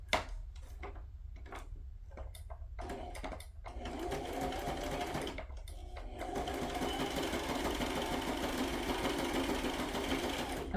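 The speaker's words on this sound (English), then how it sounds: "Now I'm going to do a straight stitch because I don't want it sticking up like too far." Sewing machine running a straight stitch on a flip-flop, starting with short stop-start bursts of rapid mechanical whirring, then settling into a steady continuous hum of stitching, close up.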